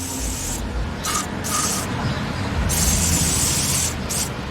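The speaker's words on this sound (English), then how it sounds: "I'm gonna spray that." Aerosol spray bursts on a part of a front strut assembly from a 2007-2011 Honda CR-V, several short hissing blasts in an uneven rhythm, close and fairly loud over a steady workshop background.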